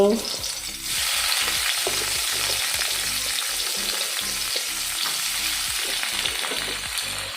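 Onion sizzles loudly in a spoonful of hot oil for Goan aakur tonak, a dense continuous crackle with rhythmic scraping and stirring strokes over the frying, no talk.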